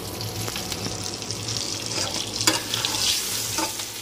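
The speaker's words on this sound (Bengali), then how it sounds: "ডিমটা বয়েল করে এই যে ভেজে নিচ্ছি" A boiled egg fries in hot oil in a pan for an aloo dim curry, giving a steady close sizzle and crackle with a few sharper pops, no voices.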